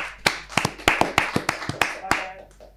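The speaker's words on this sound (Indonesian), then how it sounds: "tepuk tangan buat rekan Muslim" Scattered audience clapping at a comedy talk show taping, about a dozen separate sharp claps at an uneven rhythm, close by and fairly loud, thinning out toward the end with no voices over it.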